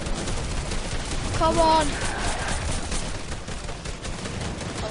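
Rapid gunfire bursts during a Fortnite battle against the Storm King, steady crackling shots under excited talking and a brief tonal game effect.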